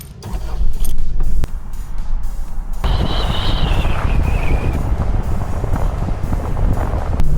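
A car carrying an electric bike on an OutfitR bike rack drives over speed bumps, giving steady loud rumbling road and wind noise with heavy low-end thumps and a brief high whine partway through.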